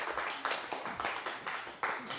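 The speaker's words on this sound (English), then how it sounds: "Let's give Taconic Hills a round of applause" Applause for Taconic Hills School at a storytelling event, a fairly faint patter of scattered claps with uneven rhythm.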